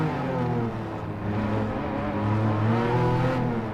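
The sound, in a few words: Porsche 911 Carrera RS engine revving in Gran Turismo 7 video game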